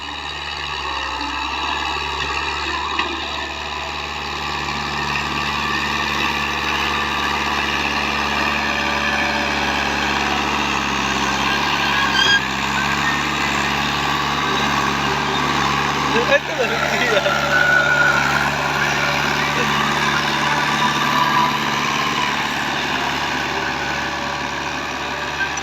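Fiat 640 tractor engine straining through a pulling test in a soggy field, loud and unbroken, a droning rumble with a persistent high whine and a slight surge partway through.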